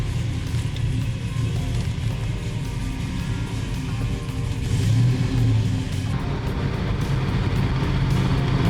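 A car engine with a misfire drones steadily while driving, a rough low rumble with uneven pulses that swells slightly midway, heard from inside the vehicle with no talking.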